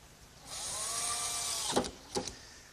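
An electric drill-driver whines steadily as it drives a couple of screws into the end of a wooden workbench piece, followed by two short bursts of the motor as it finishes.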